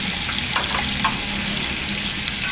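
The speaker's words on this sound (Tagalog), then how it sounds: "Isa naman siya nagmamantika yung bacon." Bacon sizzles and spits in its own rendered fat, with no added oil, during a solo samgyupsal cookout: a steady, close crackling hiss with small pops, heard on its own.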